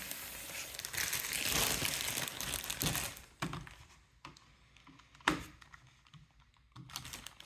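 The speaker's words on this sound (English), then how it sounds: "Let's go ahead and take it out of the wrapping here." A Logitech MK270 keyboard is pulled from its plastic wrapping: about three seconds of loud, continuous crinkling, then a few separate plastic clunks and rattles as the keyboard is handled and set down.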